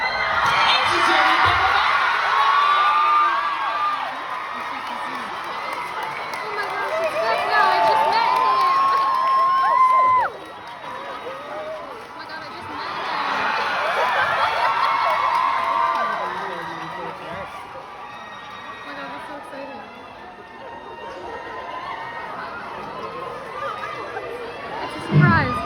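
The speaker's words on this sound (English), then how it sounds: "Big round of chair. applause for everyone's favorite villain" A fan panel audience at a Stranger Things convention claps and cheers for a surprise guest. The applause swells and fades in broad waves over half a minute, with whoops, high shouts and chatter mixed in under amplified talk.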